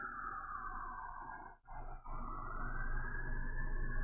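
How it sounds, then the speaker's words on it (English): Faint, distant emergency sirens wail steadily in the background. The sound dips briefly once and then continues. "It's like sirens going on back there."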